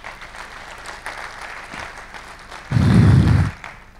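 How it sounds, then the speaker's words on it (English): Applause from an audience at a defense and security event on the unmanned age, honouring the speakers, panelists and moderator: a diffuse, fairly soft clapping wash, briefly masked by a loud low thump near the end. "a big round of applause for our speakers"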